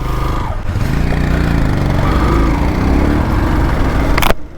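A motorbike engine drones steadily and loud as the rider speeds up along a forest road toward the Yana Caves near Gokarna, Karnataka, cutting off abruptly near the end.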